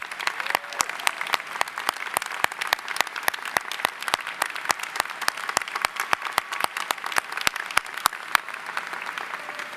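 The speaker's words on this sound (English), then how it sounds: "give a round of applause for this amazing accomplishment" An audience at a School of Management commencement ceremony claps in sustained, dense applause that carries on evenly from start to finish.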